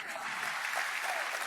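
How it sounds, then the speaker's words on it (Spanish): Church congregation applauding together, a steady dense patter of many hands filling the room, loud and sustained throughout with no pauses. "Oye, aplaudamos eso."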